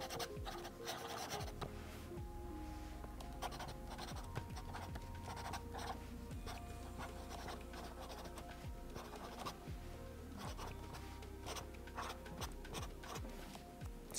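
A Sailor King of Pen 21k gold medium nib pressed hard while writing on paper, giving a continuous close, dry scratching like a pencil, with quick strokes and small ticks running throughout.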